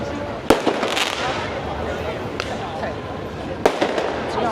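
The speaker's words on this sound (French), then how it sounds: "On va checker les feux d'artifice en attendant." Fireworks bursting during Chinese New Year celebrations in Chiang Mai, Thailand, with sharp loud bangs and crackling over a busy outdoor crowd murmur, several distinct explosions spread across the moment.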